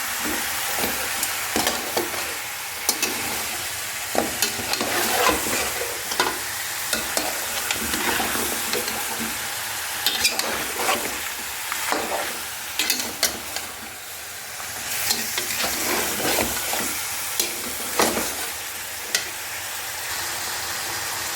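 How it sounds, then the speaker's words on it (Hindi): Beef nihari masala being stir-fried in a pot, with repeated scraping and stirring strokes over a steady close sizzle, no voices. "अभी फिर आपने इसकी थोड़ी भुनाई करनी है।"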